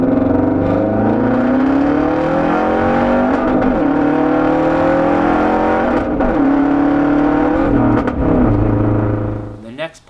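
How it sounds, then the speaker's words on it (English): Subaru WRX hatchback with a double-walled exhaust revs loudly and steadily up close, the engine note rising and falling in pitch through several pulls before fading at the end. "with this pairing and combo of all the exhaust puts together, it sounds amazing"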